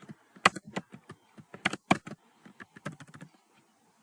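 Keys clatter on a computer keyboard in quick, irregular bursts of close, crisp clicks, with short pauses between runs of strokes and no talking.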